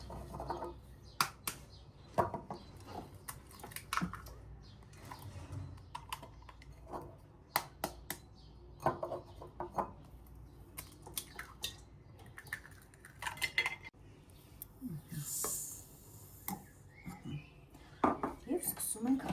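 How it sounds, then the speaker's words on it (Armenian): Whisk clattering against a bowl as eggs and sugar are beaten for a nut cake, a busy run of close metallic taps and scrapes with occasional louder knocks. "Եվ սկսում ենք հարել, մինչև փրփրելը։"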